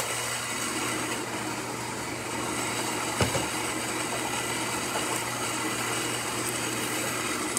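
A Saeco Incanto espresso machine's built-in grinder grinds coffee beans with a continuous, loud, close whirring drone and a low motor hum, broken by a single sharp knock partway through.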